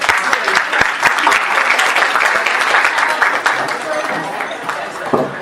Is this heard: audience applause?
yes